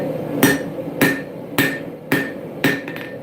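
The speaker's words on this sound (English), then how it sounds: "I'm being very careful with my hammer blows, making it nice and clean" Five evenly spaced hammer blows ring out on a forged dagger pre-form at the anvil, each a sharp, loud metallic strike with a short decaying ring, no voices.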